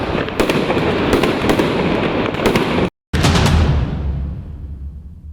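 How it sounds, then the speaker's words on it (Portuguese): Fireworks at a celebration in Maputo, Mozambique, give a dense, loud barrage of crackling bursts and pops, then a brief cut of silence, then more bangs that fade into a trailing rumble. "E foram abrilhantadas com fogos de artifício."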